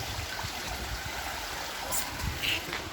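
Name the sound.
river stream flowing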